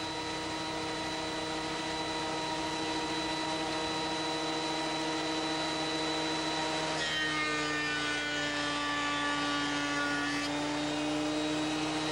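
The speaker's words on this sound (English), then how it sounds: "uses a planer to get the boards to just the right thickness." A wood planer thicknessing boards runs as a steady, loud mechanical whine with a sustained hum, its tone shifting partway through as a board feeds in.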